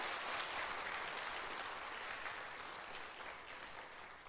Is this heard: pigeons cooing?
no